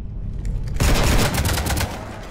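Sci-fi gunfire from Mass Effect 3 rakes a ship, a sudden loud burst of rapid shots kicking in after a quiet moment and rattling on continuously for over a second before easing slightly.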